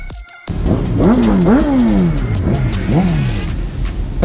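Motorcycle engine revving hard with a deep, bassy exhaust note, rising and falling in several close, loud pulls during a moto vlog ride.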